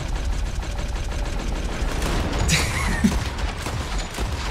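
Rapid bursts of gunfire in the video game Red Dead Redemption 2, a dense, loud volley of overlapping shots, with a sharper crack near the middle and continuous firing to the end.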